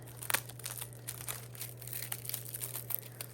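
Plastic-wrapped packaging on new quilting rulers being pulled open, a quiet, close crinkling and crackling in short irregular bursts over a steady low hum.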